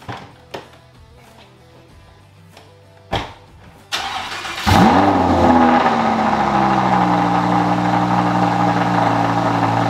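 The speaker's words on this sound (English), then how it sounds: "Now to the boring part, the cold start on the 2015 Audi R8 V10." A 2015 Audi R8 V10 cold-starts in a garage after a few clicks and thuds: the starter catches, the engine flares loudly, then settles into a steady, high, rumbling idle.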